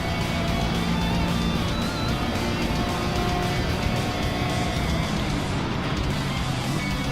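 BMW M3 race car engine at Spa in a loud racing video game, a continuous dense engine drone with a steady pitch hum, loud and unbroken throughout without speech.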